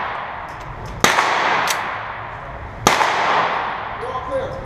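Two sharp gunshots at a shooting range, about two seconds apart, each a loud crack followed by a long echoing decay over steady outdoor background noise.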